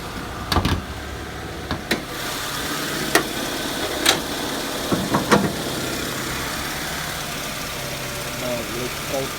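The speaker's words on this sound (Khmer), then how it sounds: "ម៉ាស៊ីននេះអត់មានផ្សើមកមានអីទេបាទវាចាស់តែម្ដង" A 1997 Honda CR-V engine idles with a low, steady hum underneath, punctuated by several sharp clicks and knocks close by, with a voice heard speaking over it.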